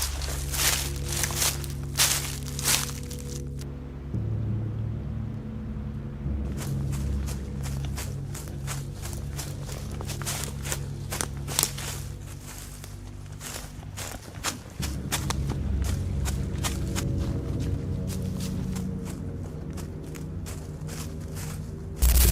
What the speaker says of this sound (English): he begins to hear footsteps behind him.